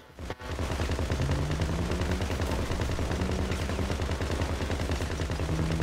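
Gunfire in the video game GTA 5 Online, a dense sustained burst of rapid automatic shots that runs almost without a break, loud and close throughout.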